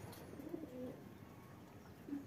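Domestic deshi pigeons give soft, low cooing calls in short bursts, faint against a quiet background.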